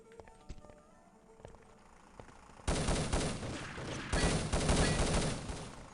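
Sniper rifle fire in a freeze-tag video game match: quiet scattered taps at first, then a sudden loud burst of rapid, dense gunfire that continues to the end.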